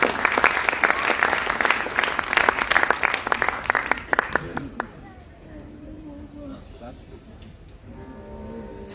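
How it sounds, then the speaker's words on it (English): Audience applause at a Bharatanatyam arangetram, dense and loud clapping for about five seconds that dies away, then a quieter hall with a speaking voice and faint music. "A round of applause again, everyone."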